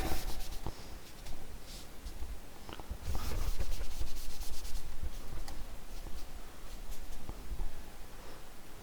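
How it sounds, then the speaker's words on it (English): A line is drawn across a classroom board during a geography lesson on India, with short rubbing and scraping strokes, close and fairly loud, in bursts with brief pauses and no talk. "So I am drawing that line."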